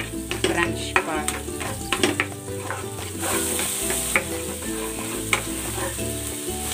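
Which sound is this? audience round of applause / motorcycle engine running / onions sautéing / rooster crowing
onions sautéing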